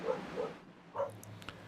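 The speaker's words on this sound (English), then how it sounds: "Apparently my dog didn't like that move." A pet dog barks indoors in a room during a sim racing stream, a few soft, moderately distant woofs spread over a second and a half with faint background noise.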